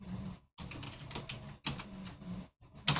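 Commands tapped out on a computer keyboard come as quick bursts of light, close keystrokes split by short pauses, ending with a sharper clack.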